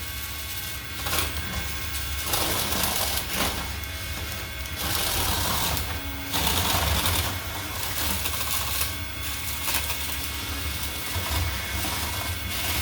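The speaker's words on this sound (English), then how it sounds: "I can't help but notice Riptide's weapon motor has remained on even after their weapon stopped." A Hexbug battlebot's weapon motor runs on after its weapon has stopped, giving a steady buzzing whir with some mechanical clatter that carries on through the whole stretch.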